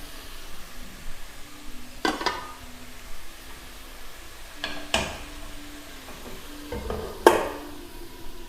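Mutton fries in a pan for sambar, giving a soft, steady sizzle broken by a few sharp scrapes of a spoon stirring the meat.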